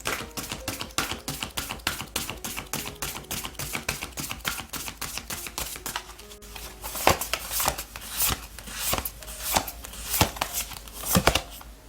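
Oracle cards shuffled by hand in a tarot reading, a quick steady run of close crisp riffling snaps, then slower separate flicks and louder slaps as cards are drawn and laid down, with no talking.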